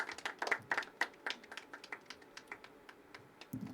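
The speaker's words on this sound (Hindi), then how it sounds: "इसके लिए तो एक बार जोरदार तालियां बनती हैं" Audience applause after a poetry reading at an open mic at The Habitat, a scattered round of claps at moderate distance that thins out and fades over a few seconds, with a brief voice at the end.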